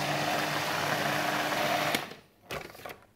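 A food processor whizzes grated Parmesan and olive oil into a crumble topping with a loud steady motor whir, then cuts off at about two seconds, followed by a couple of brief clunks.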